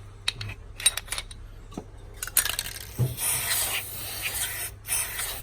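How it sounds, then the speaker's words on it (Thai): Silicone lubricant hisses from a spray can in bursts while a Glock 17 pistol is reassembled, the sprays mixed with metallic clicks, rubbing and handling of parts close by. "ผมกำลังฉีดซิลิโคนนะครับ"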